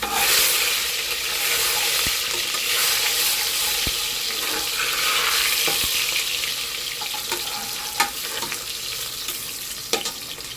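Chopped onions fry in hot oil in a pot, making a steady, close sizzle that runs the whole time. A few sharp clicks and clatters rise above it near the end.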